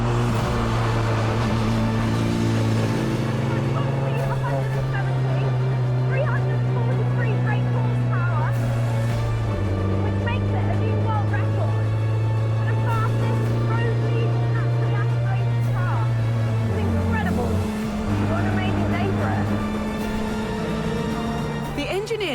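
A single-seat, road-legal track car built with Formula 1 parts drones continuously at speed on an empty racetrack, its engine pitch shifting up and down as the throttle opens.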